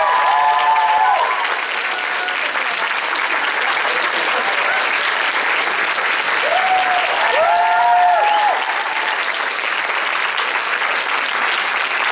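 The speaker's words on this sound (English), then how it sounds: "So please clap, give it up for the luminous Rose McGowan." Convention audience at a fan expo Q&A applauding loudly and steadily for a guest, a dense sustained wash of clapping with a few cheers and whistles rising through it.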